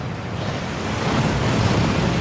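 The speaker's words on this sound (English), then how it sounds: "That waterfall washes away all enchantments." A waterfall rushes at the Gringotts vaults in the Hogwarts Legacy video game, a dense, steady roar of falling water that swells slightly, loud and continuous with no voices.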